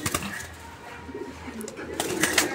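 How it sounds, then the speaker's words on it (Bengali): Three pigeons coo softly in low, rolling murmurs, with faint voices and scattered background noises around them. "এই মুহূর্তে আমরা দেখতে পাচ্ছি এখানে 3 পিস কবুতর"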